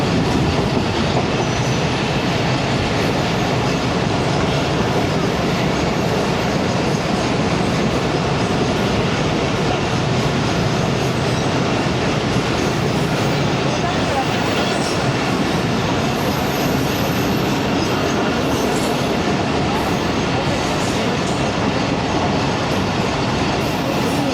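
Allama Iqbal Express, the 10DN, running steadily on its approach to Okara station, a loud continuous rumble of wheels and carriages with faint clickety-clack, heard from inside the train with no talking.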